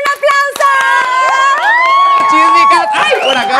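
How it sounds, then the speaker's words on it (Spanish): A lively audience cheers, whoops and shouts for the performers Trixie and Nikki Muñeca on a stage show, the loud crowd noise carrying high excited voices throughout. "con ustedes, Trixie y Nikki Muñeca, un aplauso"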